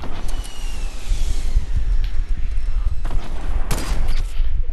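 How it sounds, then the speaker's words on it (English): Rockets fire in the Fortnite video game amid a steady, loud rumble of explosions and gunfire-like bursts, with a few sharper blasts standing out. "There's a guy right in front of me shooting rockets."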